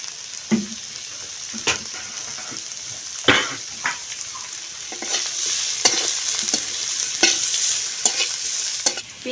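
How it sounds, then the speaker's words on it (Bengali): Chopped onion and garlic fry lightly in a pan, giving a steady close sizzle with sharp scraping clicks of stirring at irregular moments throughout. "পেঁয়াজ রসুন হালকা করে ভেজে নিয়েছি"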